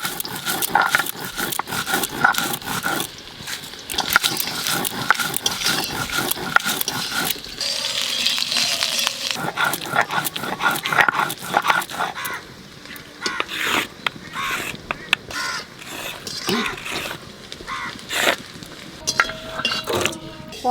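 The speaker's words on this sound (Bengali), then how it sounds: "ভাজা মশলাটা বেটে নেব।" Roasted spices are ground into a paste for an Bengali echor chingri dish. Repeated rhythmic rubbing and scraping strokes sound close and fairly loud, with a short quieter pause midway.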